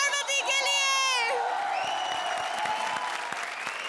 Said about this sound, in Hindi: जोरदार तालियां कपिल और पार्वती के लिए